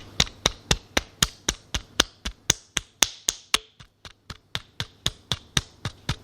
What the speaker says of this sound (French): Donc je pense qu'on peut s'applaudir.